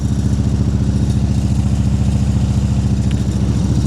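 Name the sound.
motorcycle engine running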